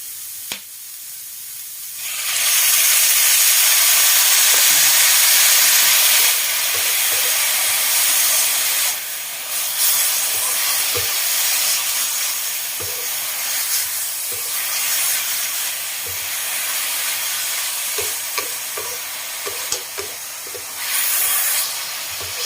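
Water poured into a hot pan of stir-frying papaya strands bursts into a loud, sustained steamy hiss and sizzle that rolls on for many seconds, with occasional clinks of a spatula against the pan.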